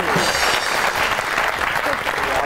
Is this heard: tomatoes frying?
no